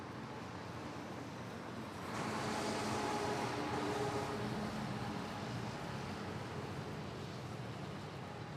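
An Airbus A350 airliner at Manila Airport sounds as a distant, broad jet roar over steady background noise. The roar swells for a few seconds and then eases back to a constant hum.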